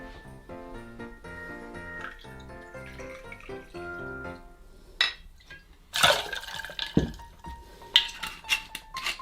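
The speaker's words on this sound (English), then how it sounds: "Next is 2 ounces or 60ml of vodka." Vodka pours into a glass of punch after soft background music, giving a gurgling splash followed by clinks of glass and liquid sloshing, up close with no talking.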